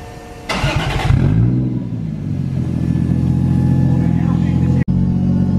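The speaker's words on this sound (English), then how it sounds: "God, listen to that fuel pump" A tuned, high-power car engine starts with a sharp burst and settles into a loud, steady idle with a continuous whine over it, heard close, with one brief cut near the end.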